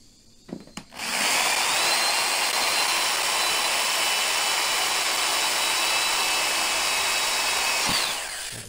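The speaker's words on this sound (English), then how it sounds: "Needed to drill a hole in the top of it for mounting it." A power drill whines steadily at high pitch for several seconds, close and loud, drilling a hole into cured epoxy, starting abruptly and cutting off near the end.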